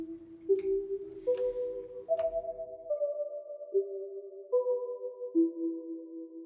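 A chill synth preset from the Harmor plugin in FL Studio plays a slow, clean sequence of sustained tones that step up and down one after another, with a few soft clicks early on and no voices.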